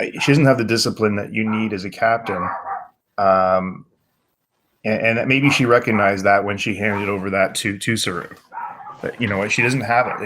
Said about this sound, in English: I'm going to mute for a second while these dogs bark.